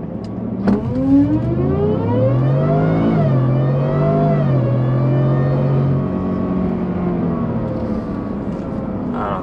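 A supercharged 2021 Ford F-150 with a Whipple Gen 5 on the 3.0 engine launches from a standstill, its engine and supercharger whine rising loudly up close, dipping at a shift, then climbing again before easing off.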